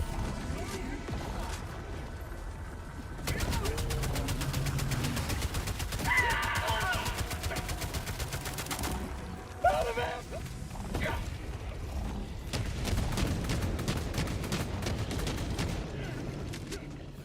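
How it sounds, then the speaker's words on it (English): Autocannon fire in Helldivers 2, an entire magazine unloaded in a rapid rhythmic string of heavy shots that continues for long stretches, with players talking over the combat noise. "It was the entire magazine from an autocannon."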